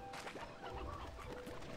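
Chickens clucking in the video game Slime Rancher 2, a close, steady stretch of clucks and squawks over a game soundtrack with no speech.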